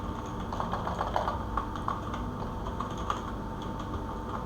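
Steady, quick tapping of keys on a computer keyboard, close and continuous with slight irregular rhythm, over a low background hum.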